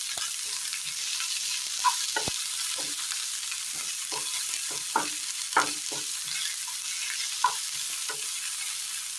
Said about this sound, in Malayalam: നന്നായി ഒന്ന് വഴക്കിയെടുക്കാം